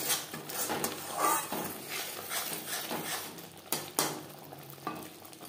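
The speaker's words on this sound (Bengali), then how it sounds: "মশলার সাথে গুঁড়ো মশলা বেশ ভালো করে কষিয়ে নেব" Ground spices being sautéed and stirred in a pan for a vegetarian stuffed pointed gourd dish, a soft steady sizzle with scraping and light metal clinks of the spoon, close and moderately quiet, no talking.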